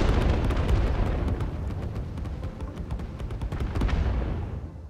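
An explosion goes off in the factory-building video game Satisfactory. A heavy rumbling blast carries a burst of rapid crackling pops, then fades gradually over several seconds with no voices.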